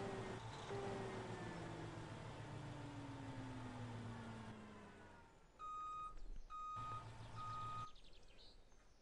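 In Farming Simulator 17, a truck engine hums with a falling pitch, then a steady series of high reversing beeps pulses in even rhythm at moderate volume, with no one talking.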